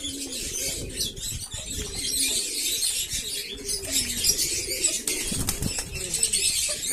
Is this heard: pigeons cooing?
yes